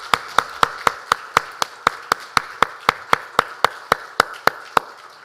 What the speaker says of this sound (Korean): 함께 영광에 박수를 올려드리겠습니다